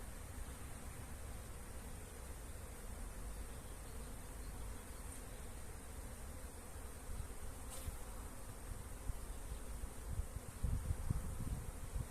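Steady, dense buzzing of many honeybees close by at an open hive, continuous throughout with a soft whooshing background.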